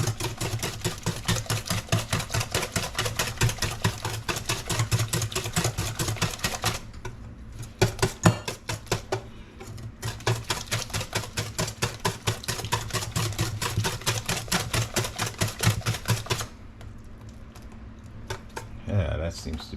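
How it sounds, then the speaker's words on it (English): Carrot cupcake batter is whisked by hand in a bowl, a rapid and steady rhythmic clicking and scraping that continues for most of the time, pausing twice briefly. "So I'll just continue whisking here, get everything well mixed."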